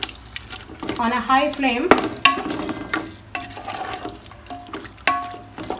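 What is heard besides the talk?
stirring chicken and potato chunks in a pot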